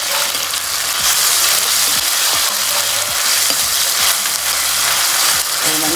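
Ginger garlic paste frying in hot oil for a dry eel fish curry, with a loud continuous sizzle and a steady run of spatula scrapes and clicks against the pan, up close and without speech.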